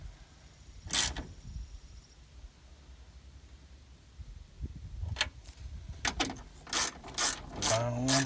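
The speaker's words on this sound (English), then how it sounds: "just want to tighten them down snug" A ratchet wrench tightens lock-washered bolts on a Ford window regulator, its quick pawl clicking in short bursts, a lone burst first and then several closer runs toward the end, fairly close and clear.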